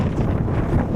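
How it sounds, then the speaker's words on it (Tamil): Strong wind roars across the deck of a sightseeing cruise ship in New Zealand, a loud, continuous buffeting rush right on the microphone with no break. "ஐயோ என்ன காற்று."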